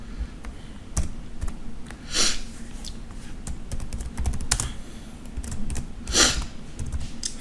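Code being typed on a computer keyboard for a PHP and MySQL database page: steady close-up key clicks in uneven bursts, with a few louder strikes standing out, and no talk.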